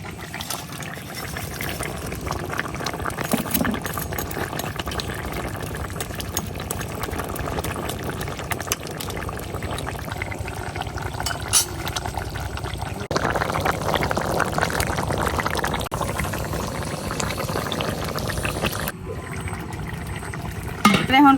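Puti fish curry with potatoes and ridge gourd bubbling in a thin broth over the fire as the fish goes in: a steady, close simmering hiss and bubble that swells louder midway, then drops off near the end.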